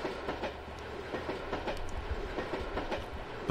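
A train in the A-Train 9 railway simulation game rumbles past with steady clickety-clack wheel beats over a continuous low roar, even and moderately loud, with no talk.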